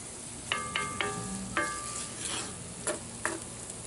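Sofrito with added fat simmers in a 14-inch Lodge cast iron pan, a steady close sizzle and crackle broken by several ringing metallic clinks of a utensil against the iron.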